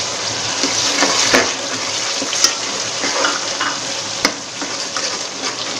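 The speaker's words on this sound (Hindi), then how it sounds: "और मसाले को भून लेंगे।" Masala and tamarind fry in a pan with a steady, dense sizzle and crackle throughout, with a few sharper pops and stirring scrapes; no talking.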